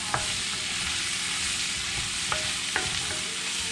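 Sliced baby portobello mushrooms fry in a crowded pan with a steady broadband sizzle, broken by a few faint clicks of a utensil near the start and toward the end.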